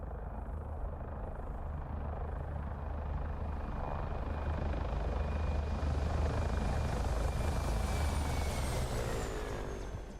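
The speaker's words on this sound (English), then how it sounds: "a very special helicopter, the Mi-24, known as the Hind or Satan's Chariot" A Soviet Mil Mi-24 Hind attack helicopter flies over with a heavy, throbbing rotor chop and a steady engine whine that swells and holds loud before the pitch slowly drops as it passes, with no voices.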